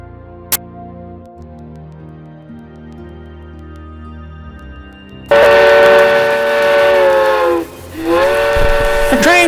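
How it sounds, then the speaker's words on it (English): A loud, sustained train whistle blasts as a passenger train departs for Winnipeg, breaking in after a quiet, faintly tonal stretch, dipping briefly, then sounding again, close and dominant. "The train for Winnipeg is now boarding."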